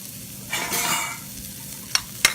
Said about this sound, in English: That coated in the oil. And that's frying away.